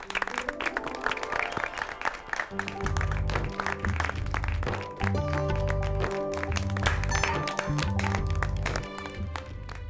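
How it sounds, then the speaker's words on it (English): A round of applause for a daring daughter-in-law in a drama scene, mixed under loud, steady background music with a heavy bass beat, lasting about ten seconds. "A big round of applause for the daring daughter-in-law!"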